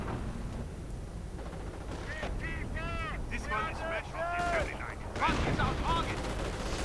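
BAR automatic rifles fire in a video game battle as bursts of gunfire crackle amid a noisy mix, with voices and tonal sounds layered over the shooting.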